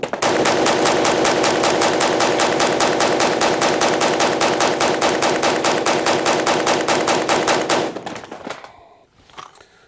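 Sustained rapid automatic fire from a Desert Tech WLVRN rifle shooting 62 grain green tip rounds, a loud, evenly spaced burst of shots lasting about eight seconds before stopping abruptly, followed by faint rattling.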